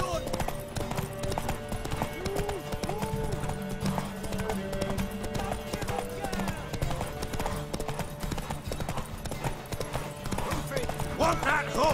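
Horse hooves from The Witcher 3, a steady clip-clop running throughout at medium distance, with game voices talking over it and a brief whinny.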